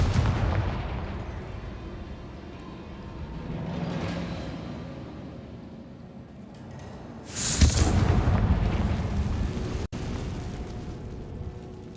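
Magic spell blasts from Confringo and Bombarda in Hogwarts Legacy, rolling booms and bursts recurring through the stretch, with a sharper, louder blast near the middle and game ambience underneath.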